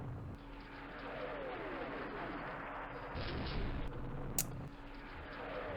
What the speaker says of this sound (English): Artillery is not being effective.